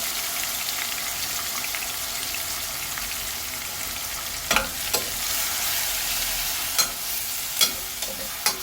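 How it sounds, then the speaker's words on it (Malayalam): Ground onion paste fries steadily in a pan with an even, close sizzle. Sharp stirring scrapes cut through it now and then toward the end. "ഇതൊന്ന് മൂക്കട്ടെ. സവാള മൂക്കട്ടെ."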